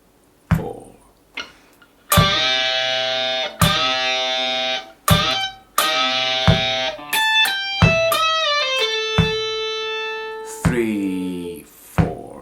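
Electric guitar playing a lick, a bend and release followed by a triplet: clean-to-driven plucked notes in short bursts, then a quick run of descending sustained notes ending in a brighter chord, loud and close with no talk.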